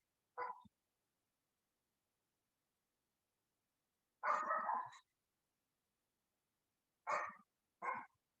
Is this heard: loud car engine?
no